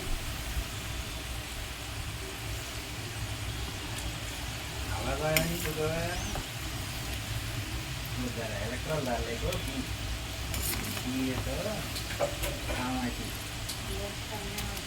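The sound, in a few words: potato french fries frying in oil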